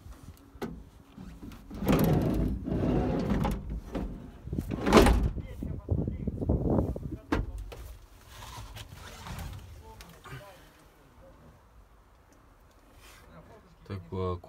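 The cabin door of an XCMG 25 truck crane opens and closes with mechanical clunks and a latch thud amid creaks, while someone talks nearby.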